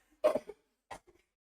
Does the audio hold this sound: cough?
yes